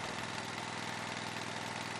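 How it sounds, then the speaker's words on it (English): A Toro Sandpro engine idles steadily with a continuous, even mid-pitched chug, loud and close, running alone without pauses or voices. "Allow the key to automatically release to the run position when the engine starts."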